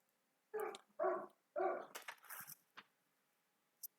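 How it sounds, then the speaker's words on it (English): Dogs barking in a quick run of several loud, close barks with a short yip or whine afterward, then silence with one faint brief sound near the end. "my dogs just love barking"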